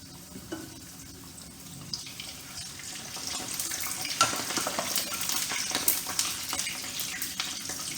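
Semolina sweets fry in hot oil with a steady crackling sizzle that builds slightly, heard close and alone with occasional soft stirring clicks.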